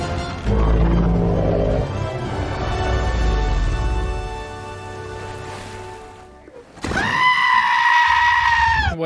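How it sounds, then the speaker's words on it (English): In an animated Moana 2 scene, a goopy blobfish lets out a loud, sudden, bleating goat-like scream that starts after low rumbling and sustained tones, then cuts off sharply in a brief burst. "Why did that blobfish scream randomly?"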